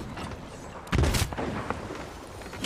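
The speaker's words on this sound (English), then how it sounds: "They just raised sails behind our boat and they're trying to chain shot us." Cannon chain shot fire from a rival pirate ship in Sea of Thieves, a sudden loud booming blast followed by a short, noisy burst of follow-up shots against steady ambient game noise.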